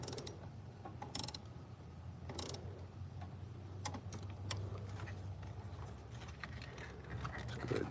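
A 10mm ratcheting wrench tightens an alternator bolt on a 2013 Chevy Impala, giving faint, sparse metallic clicks in short runs against a quiet shop background.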